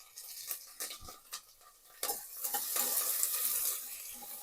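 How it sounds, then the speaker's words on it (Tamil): Onions and curry leaves fry in a pan: a few spoon clanks against metal first, then a rising, close sizzle with stirring that carries on steadily. "வெங்காயம் வந்து இப்போ நல்லா ஃப்ரை ஆகணும்"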